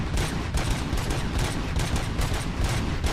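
RoboCop's gun firing in a RoboCop video game, a dense, continuous stream of rapid gunshots that stays loud and steady throughout, with no voices.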